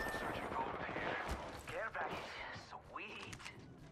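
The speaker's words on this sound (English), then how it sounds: "I'll shoot them in the back so you can climb." Rapid bursts of weapon fire crack through an Apex Legends firefight during an enemy engagement, repeated shots close and loud, with a player talking over them.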